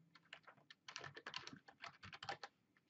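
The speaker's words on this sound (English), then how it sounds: "Type in the label name" Rapid, uneven typing on a computer keyboard while entering a label name in software, with clustered key clicks heard close and alone.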